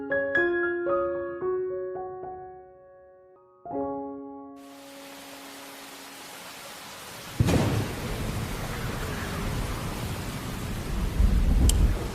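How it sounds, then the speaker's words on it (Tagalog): Heavy rain pours in a steady hiss after a few soft musical notes, and a loud rumble of thunder breaks in midway, with the rain and thunder swelling again near the end. "Lakas ng ulan ah."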